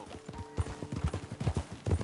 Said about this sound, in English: Think you need to rein in that horse a little.